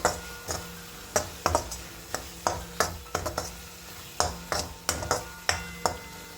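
A spoon stirring turmeric and sabzi masala into a Maharashtrian matki (moth bean) and potato curry in a pot, with a steady run of sharp clicks and scrapes against the pan over a low sizzle.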